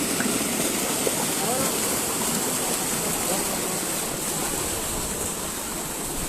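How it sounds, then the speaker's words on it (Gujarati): Water from ten borewells in the Tharad area gushes out under pressure in a loud, unbroken roar, close by, with people's voices faintly underneath. "આની ખાલી તમે ધાર જુઓ અને પ્રેશર જુઓ જેટલી પ્રેશરમાં આવે છે પાણી"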